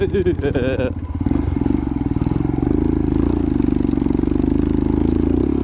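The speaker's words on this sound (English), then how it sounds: "the reason I went with a louder exhaust is because people couldn't hear me coming on the trails" A loud Royal Enfield Himalayan motorcycle with an aftermarket Lextek exhaust rumbles and revs as it climbs a trail, its throaty exhaust pulsing steadily up close while someone talks over it.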